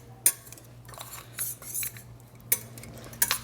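A utensil stirs lasagna ingredients in a pan, giving a few sharp metallic clinks and soft scraping strokes, close and fairly quiet, with only a faint sizzle.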